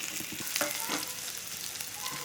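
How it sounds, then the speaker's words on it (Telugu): Onions fry in oil in a pan for broccoli curry, giving a steady close crackling sizzle with faint stirring taps and no voices. "దీంట్లో కొంచెం ఆయిల్ వేసుకొని ఉల్లిపాయలు, టమాటా ఇవన్నీ మనం ఇందులో ఫ్రై చేసుకుందాం"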